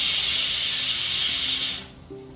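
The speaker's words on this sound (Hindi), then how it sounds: "ये व्लॉग यही एंड करते हैं इस कुकर की सीटी के साथ" A pressure cooker vents steam from its whistle while cooking prasad for Ganesh Chaturthi: a loud, continuous hiss that cuts off abruptly near the end, leaving a low hum.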